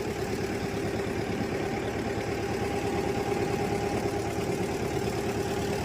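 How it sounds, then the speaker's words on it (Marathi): A motorboat engine hums steadily during a boat ride on the Koyna dam backwaters at Tapola, a constant mid-low drone with water and wind noise, close and unbroken, no voices. "ही तापोळा मधली बोट राईड आहे."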